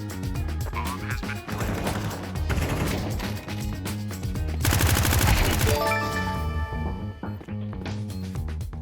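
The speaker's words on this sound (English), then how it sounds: "the M249 is currently the most expensive weapon in the game" M249 light machine gun fire in Counter-Strike 2, sustained rapid automatic bursts up close amid busy game sounds, rising into a louder, heavier stretch of fire toward the middle.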